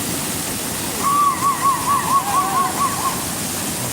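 Gandahayiti waterfall roars as a constant broadband wash of falling water, steady and enveloping, with a brief series of faint whistle-like hoots briefly riding over it midway.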